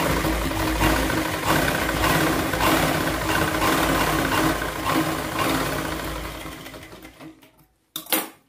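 A sewing machine stitches a blouse with a steady, loud mechanical whirr and rhythmic needle hum that runs near-continuously, then slows and stops before a brief final burst.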